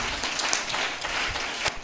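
Church congregation applauding during a worship service, steady dense clapping throughout the short stretch, fairly close and even in loudness.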